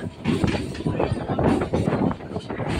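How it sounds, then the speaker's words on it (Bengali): A local train pulls out of Patipukur station on the Barrackpore to BBD Bagh line, a steady rumbling clatter of wheels and carriages with rhythmic knocks, close and continuous under a noisy carriage. "ট্রেন এখন পাতিপুকুর স্টেশন ছেড়ে বেরিয়ে যাচ্ছে।"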